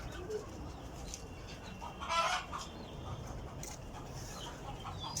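Backyard chickens, kept alongside pigeons and ducks, cluck faintly at dusk. One brief, louder call rises around the middle over a quiet, hissy background, and no voices are heard.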